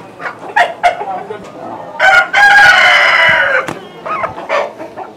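A tiger chicken being caught on a poultry farm gives loud, close, repeated agitated clucks and squawks, rising into a long drawn-out cry in the middle before breaking into short clucks again.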